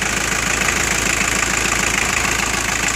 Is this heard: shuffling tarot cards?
no